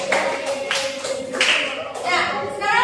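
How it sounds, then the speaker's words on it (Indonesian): A classroom of students claps for a classmate named Nisa during a lesson, a few short bursts of clapping with children's voices and chatter mixed in. "Tepuk tangan buat Mbak Nisa."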